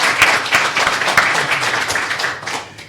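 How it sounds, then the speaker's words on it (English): An audience applauds a panelist at a university panel on civil rights law, brisk clapping of many hands at moderate distance that fades toward the end. "Let's give him a round of applause."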